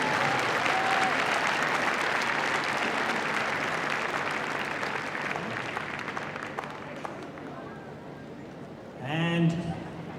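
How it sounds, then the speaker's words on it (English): Crowd applause for the winning agility team relay at a dog show fills the arena at full strength, steady dense clapping that slowly thins toward the end, with a brief voice near the close. "Give them a round of applause."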